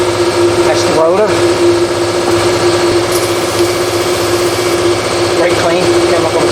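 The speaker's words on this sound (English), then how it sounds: "Wait for my compressor to kick off here." An air compressor runs continuously with a loud, steady tonal whine and motor drone in a garage where front brakes on a 2001 Ford Explorer Sport Trac are being serviced. A voice briefly speaks over it.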